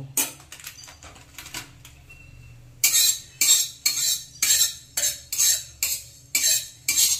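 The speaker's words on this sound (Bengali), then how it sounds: "এবার শুকনো খোলায় মৌরিটাকে ভালো করে ভেজে নেব।" Fennel seeds dry-roasting in a hot, dry pan over a low flame, stirred with a utensil: after quieter soft scraping, a run of crisp, regular scratchy rattles and clinks repeats about twice a second, close and clear.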